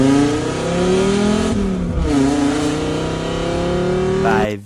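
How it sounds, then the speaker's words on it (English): Audi Coupe Quattro rally car engine revving hard and loud throughout, pitch climbing through gears with a brief dip and recovery midway, then cutting off abruptly at the end. "Today we are going to be driving the Coupe Quattro rally car to the work."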